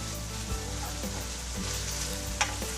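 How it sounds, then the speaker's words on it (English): Hamburger meat sizzles loudly and steadily in a frying pan as a utensil stirs it, scraping and bumping now and then against the pan, close with no voices. "Just gotta mix that all up with my meat."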